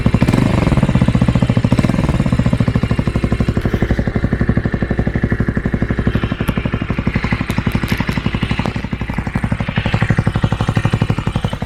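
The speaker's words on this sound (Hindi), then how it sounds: "तो ये एग्जॉस्ट की बातें हो गई और मैं थोड़ी आपको आवाज़ सुना भी देता हूँ इसकी" A Bajaj Avenger Cruise 220 cruiser motorcycle runs at idle close by, its exhaust giving a loud, steady, rapid thumping beat that continues without a break.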